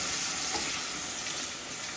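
Pasta water poured into a hot pan on a home stove, giving a steady, close-up sizzling hiss that keeps going without a break for about two seconds.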